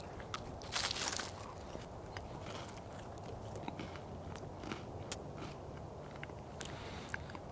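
Crackers spread with peanut butter and jam from a 2022 US humanitarian daily ration being bitten and chewed close up, with a sharp crunch near the start followed by softer repeated crackly chewing.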